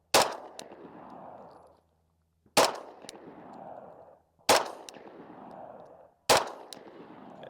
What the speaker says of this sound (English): All right, I'm gonna shoot the Glock 20 first.